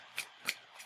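Tarot cards being shuffled by hand, three quick soft riffling flutters, quiet and close with no talking.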